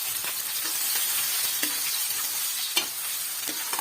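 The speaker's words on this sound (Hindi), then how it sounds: "घी हमारा हो चुका है गर्म। तो इसमें हम अनियन जो हमने काटा है ऐड" Chopped onion sizzling in hot ghee in a kadai, a steady close frying hiss with occasional stirring clicks and scrapes, no talking.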